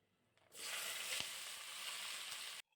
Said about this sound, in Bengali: কিন্তু আমাকে পেঁয়াজটা ভেজে নিতে হবে